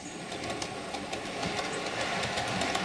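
Model railway locomotive running on track, a steady close rumbling whir with faint rhythmic clicking of wheels over rail joints, continuous and fairly quiet throughout with no talking.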